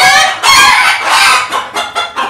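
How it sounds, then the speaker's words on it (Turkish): Light breed roosters on a farm crow and cluck in several loud, close bursts separated by brief pauses. "Bizim light horozlarımız var."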